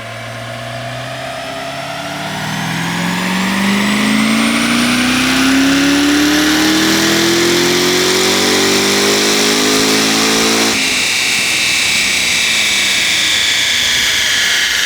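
A Stage 4 C7Z car engine with a Magnuson G8 revs on a dyno at three-quarter throttle, a rising whine held at high revs, loud and sustained, then shifting pitch near the end; no talking.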